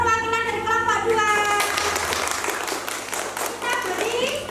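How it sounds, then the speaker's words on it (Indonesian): Classroom audience of students claps for a group representative during a school teaching session, a burst of applause mixed with voices and chatter throughout. "Beri tepuk tangan untuk perwakilan dari kelompok 2."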